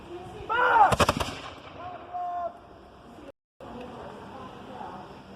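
A historic gun fires in a demonstration at the General Nathanael Greene Homestead: one loud, sharp blast with a crackling burst that quickly decays, followed by quieter outdoor background and people talking nearby.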